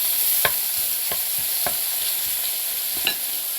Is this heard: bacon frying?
yes